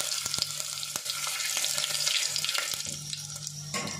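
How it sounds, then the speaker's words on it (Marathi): Whole garam masala spices with cardamom and bay leaf sizzle steadily in hot oil in a pan, with scattered sharp clicks of stirring, close and continuous throughout. "हे दोन तीन मिनटं आपल्याला परतून घ्यायचे गरम मसाले।"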